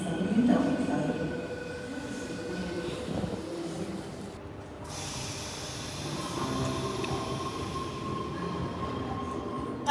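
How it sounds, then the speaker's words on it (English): A Sydney train pulls into platform 4 at North Sydney station, with a steady rumble of wheels, faint squeal and hum filling the whole stretch while voices murmur nearby. "oh no, there's a train on platform 4"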